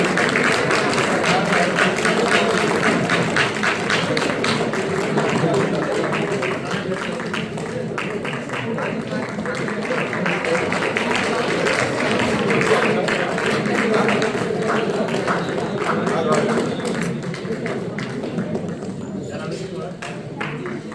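Audience applause fills an award ceremony hall, dense continuous clapping from a large crowd sustained for the whole stretch, with voices mixed in underneath.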